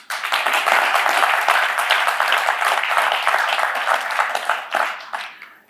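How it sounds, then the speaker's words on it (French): A dense crowd applauds loudly and steadily, many hands clapping together in a continuous roar that holds for several seconds before thinning out toward the end. "Nous voulons saluer également leur présence par des applaudissements."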